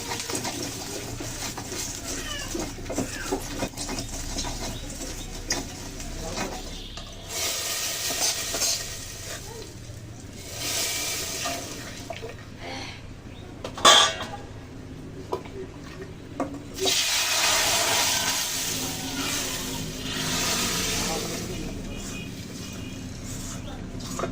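Boiled chana dal being mashed in a cooking pan: continuous wet scraping and squelching with a faint sizzle, close and fairly loud for over twenty seconds, while a voice talks at times.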